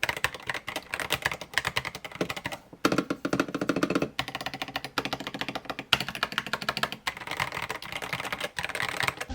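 Rapid, continuous mechanical keyboard typing, close and crisp, with dense clacking keystrokes and brief pauses between bursts.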